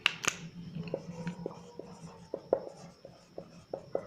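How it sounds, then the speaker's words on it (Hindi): A pen writing a note by hand on paper: soft, close scratching strokes with small taps at irregular intervals, quiet and mostly alone with barely any voice. "और यहाँ पर एक और नोट डाल के लिखेंगे,"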